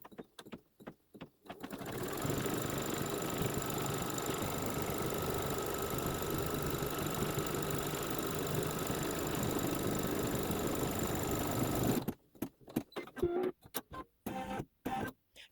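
A sewing machine stitches quilt batting in one long, continuous whirring run of about ten seconds, bracketed by a few short bursts of stitching before and after.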